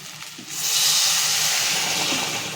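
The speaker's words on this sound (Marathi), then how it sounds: "पाण्याला छान उकळ आलेली आहे. आता हे आपण त्या भातामध्ये टाकायचं." Boiling water is poured into spiced rice for a prawn pulao, giving a loud, steady hiss and sizzle that swells after a short pause and stays strong to the end.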